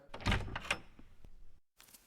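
A door is opened, with a short creak and a thud of movement, then a brief pause of silence before a faint trailing rustle.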